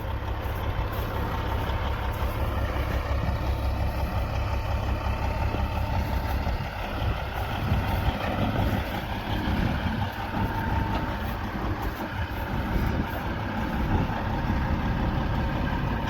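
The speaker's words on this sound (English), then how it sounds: "Well, tow truck's here." A large tow truck idles nearby in a rural setting, a steady low diesel rumble holding for the whole stretch at moderate distance with no one talking over it.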